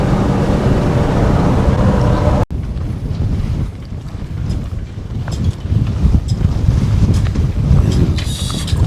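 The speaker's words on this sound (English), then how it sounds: "It's quite windy this morning." Strong morning wind buffets the microphone outdoors along the Alaskan Highway, a loud, constant rumbling roar that drops briefly, then gusts back up in uneven surges.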